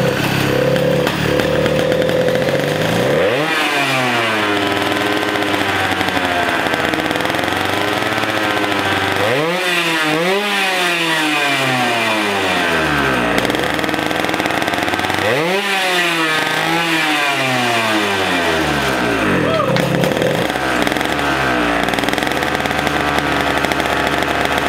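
A small two-stroke racing go-kart engine runs loudly and up close, buzzing steadily, with its pitch swooping up and down several times as the throttle is revved.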